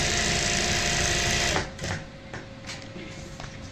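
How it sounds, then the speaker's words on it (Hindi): A sewing machine runs loud and steady, stitching a seam in leftover cloth for a DIY multipurpose hanging organizer, then stops abruptly partway through, leaving a few light clicks and handling noises. "बिल्कुल सीधी ऐसे सेट करते हुए यहाँ पे हम सिलाई लगाएंगे"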